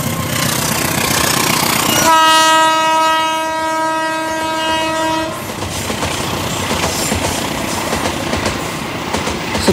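Indonesian passenger train U54 Sribila Utama sounding a long, loud, chord-like horn as it passes through Bandar Tinggi station, then the rumble and clatter of wagons rolling by close up.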